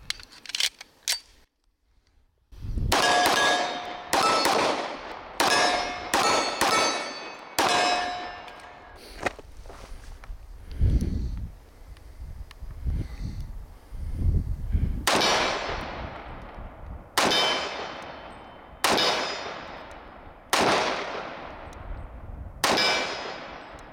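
A 1911 pistol fires its last magazine outdoors, sharp loud reports in quick bursts of two to four, then a pause before a second string of evenly spaced single shots, each ringing briefly, no talking.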